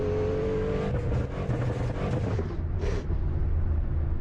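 A Cadillac CT5V engine in a driving video game hums and revs continuously at close range, a steady low roar with slight swells and no talk.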